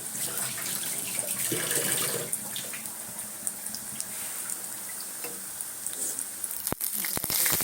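Tap water runs steadily into a kitchen sink throughout, a continuous hiss and splash with a few clinks near the end.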